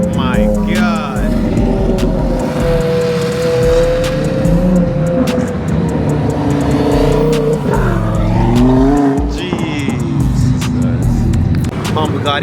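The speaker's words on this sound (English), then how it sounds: "Bugatti pulling up now." A Bugatti supercar pulls up at a busy supercar gathering, its engine note rising and revving over a steady car-show din, with people talking and exclaiming close by throughout.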